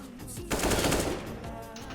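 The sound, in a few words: gunshot in the video game Counter-Strike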